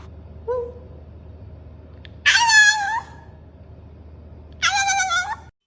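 A cat gives two loud, drawn-out meows a couple of seconds apart, close and clear over a faint background hum, with a tiny chirp before them.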